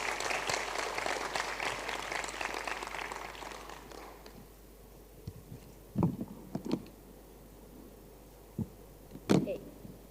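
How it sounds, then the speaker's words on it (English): An audience at a school summit applauds its speakers, the clapping fairly quiet and fading out after about four seconds, followed by a few scattered knocks and thumps. "Please have a warm round of applause for the speakers."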